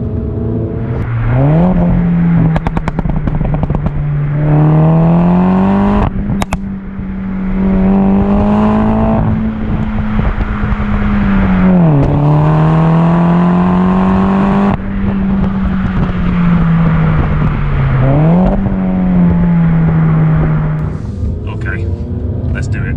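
Mulgari ICON2 'Warbird', a Mini-based car, driven on the road with its engine droning steadily, rising and falling with several rev swells and gear changes, while a voice talks over it throughout.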